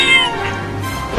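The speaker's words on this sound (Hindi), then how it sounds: "अरे ये बिल्ली तो पिंजरे में से निकलने की कोशिश कर रही है।" A cat escaping a cage gives a clear, drawn-out meow near the start, then a quieter stretch that ends with a brief thump.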